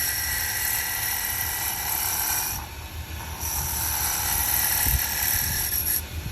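Fan running in a woodworking workshop while a shave brush handle is turned with a carbide round gouge, a steady whirring drone with mechanical rattling, briefly dipping a couple of times, with no talking.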